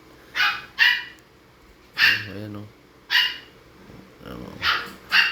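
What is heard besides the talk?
dog barking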